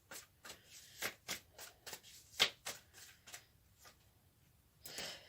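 A deck of cards being shuffled, quiet, close crisp riffles and flicks in a quick uneven rhythm with a brief louder flurry near the end.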